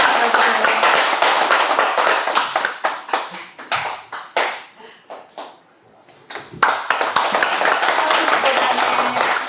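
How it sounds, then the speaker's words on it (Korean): Hands clapping from a seated audience at a Buddhist precepts and graduation ceremony, a close, sharp burst that thins to a few scattered claps, pauses, then swells again. "박수."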